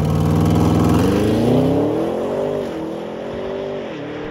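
Audi RS6 Avant launching hard from 0 to 100 km/h, a loud, close engine roar that rises in pitch through several gear changes, each shift marked by a brief dip before the revs climb again.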